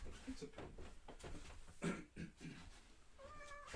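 A pet cat gives a few soft meows indoors, close but quiet, mixed in with someone talking and a faint background hum.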